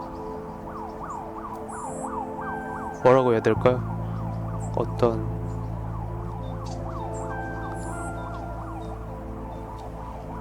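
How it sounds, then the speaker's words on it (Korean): An ambulance siren wails, sweeping up and down steadily throughout as it passes nearby on a rainy evening at Nodeulseom island in Seoul, with someone briefly talking over it. "앰뷸런스가 지나가네요."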